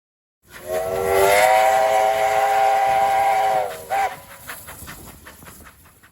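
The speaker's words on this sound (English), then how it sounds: "our train is underway again" Steam train whistle blowing one long, loud sustained blast on the abandoned Kurow line, then the train pulling away with rumbling, chuffing rail noise fading off, no one talking.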